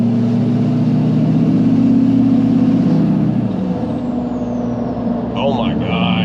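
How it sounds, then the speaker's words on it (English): LBZ diesel truck engine fitted with an HSP high flow intake, rumbling loudly up close under throttle, its deep drone shifting midway as a thin intake whistle rises above it. "big toeing on this throttle, and you can hear that whistle way more prominently"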